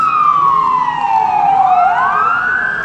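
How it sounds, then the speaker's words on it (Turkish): Emergency vehicle sirens, a fire truck, ambulance and police, arrive at a burning car in Samsun: a loud, close, continuous wail that slides down in pitch and then sweeps back up, with overlapping tones. "Geldi herhalde itfaiye. Aynen. Bak ambulans da geldi. Polis."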